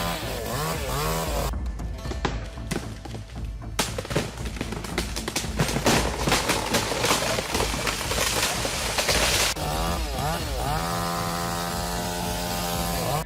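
Chainsaw cutting into a tree during a felling attempt, loud buzzing engine with rapid revving bursts and choppy cutting noise, the motor droning on its own near the end.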